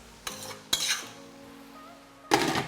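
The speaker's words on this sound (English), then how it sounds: "Time to stir." Minestrone soup with zucchini and oregano stirred in a pot, a few clattering spoon knocks against the pot's rim and sides separated by quieter pauses, close by, with no talking.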